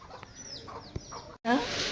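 Chickens cluck around feeding time at a rural home, short soft clucks and calls over quiet background, then a louder, closer burst of clucking near the end.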